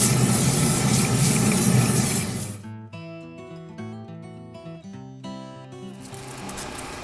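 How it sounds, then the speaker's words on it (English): An olive oil cooking spray hisses continuously onto a Traeger pellet grill for about two seconds, then stops, giving way to background music. "Add some olive oil cook spray."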